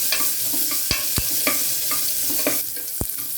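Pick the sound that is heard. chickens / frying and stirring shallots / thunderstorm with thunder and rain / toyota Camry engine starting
frying and stirring shallots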